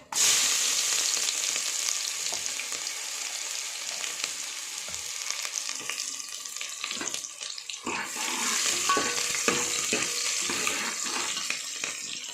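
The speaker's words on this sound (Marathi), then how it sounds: "तेजपत्ता झाला गरम, आता आपण कांदा टाकून घेऊ" Chopped onion dropped into hot oil with a bay leaf fries in a steady, close, loud sizzle that hisses continuously with small crackles and a few light clinks, with no talking.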